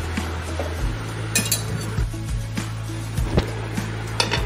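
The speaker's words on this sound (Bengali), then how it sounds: "খুন্তি দিয়ে ওপর নিচ করে নিচ্ছি" A metal spatula stirs water lilies in a cooking pan, giving repeated scraping clinks and taps against the pan over a steady low hum, close and fairly clear.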